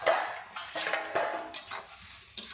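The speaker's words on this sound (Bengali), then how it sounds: "আবারও ঢাকনা খুলে দেখছি যে হয়ে গেছে যে নাকি।" A lid is lifted off a cooking pan of frying vegetable stems, giving a few close metallic clinks and clatters with soft rattling between them.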